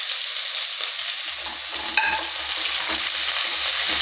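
Curry leaves, onion and green chilies frying in a pan of hot oil make a steady, close sizzle for the whole stretch, with a few stirring scrapes and no voice.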